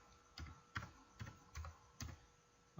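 Keys clacking on a computer keyboard while a registry command is typed into Windows search, five or six distinct keystroke bursts spaced about half a second apart, close and fairly quiet with no talk.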